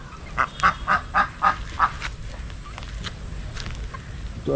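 A series of about six loud, evenly spaced honks and quacks from native country ducks rings out up close, then fades into quieter background noise.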